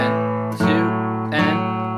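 Guitar chords strummed in a 12-bar blues rhythm on an A progression, sustained ringing tones with two clear re-strums, close and loud with no voice.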